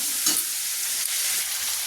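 Chicken pieces with a few potatoes sizzle in a hot pan, a dense, loud, steady hiss of frying with a faint stirring scrape near the start.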